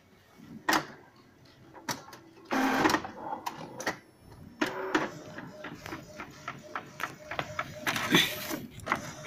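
An Epson L1118 ink tank printer runs through a print job with uneven bursts of whirring and clattering from its feed and print mechanism, loud and close, with short gaps between the bursts.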